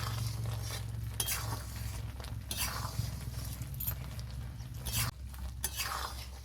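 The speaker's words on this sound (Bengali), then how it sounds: "মশলাটা খুব ভালো মতো করে আমি মিক্স করে নেব।" Ground spices being stirred and mixed into jujube (kul) pickle in a pot, a soft scraping and patter repeating in irregular strokes, fairly quiet and close.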